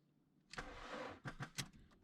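A car's starter cranks again on a weak battery and the engine fails to fire: one long grinding whir, then a few quick stuttering bursts, close and fairly loud, no voices.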